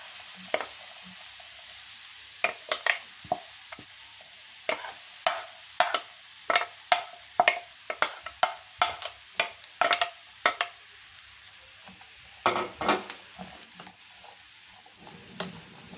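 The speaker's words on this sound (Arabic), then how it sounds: "هفضل اقلب فيهم كويس بقى لغاية ما يتبلوا" Chopped onions fry softly in clarified butter (ghee) as a spoon stirs them, giving a low sizzle under a string of sharp utensil clicks and scrapes against the pan, close up and without talk.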